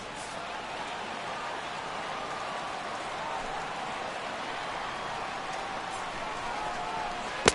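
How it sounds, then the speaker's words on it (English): Rain comes down fairly steadily over the baseball stadium at a Mets–Dodgers game in Los Angeles, a dense continuous hiss of drops with a faint crowd murmur underneath and a brief knock at the end. "The rain, as we've mentioned, coming down fairly steadily here at game time."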